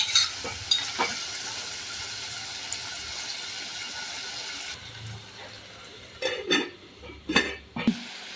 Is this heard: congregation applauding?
no